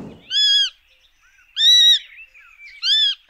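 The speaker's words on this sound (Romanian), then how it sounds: "Iar păsările îl dau de gol la rândul lor, dând alarma în frunziș." Small birds such as sparrows giving alarm calls at a sparrowhawk in foliage, three loud harsh close calls spaced about a second apart over near silence.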